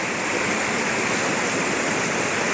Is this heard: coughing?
no